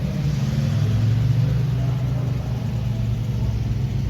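A bright orange 1970 International Scout rolls in a tractor show parade, its engine giving a steady, low, continuous rumble close by with slight fluctuations and no other sounds.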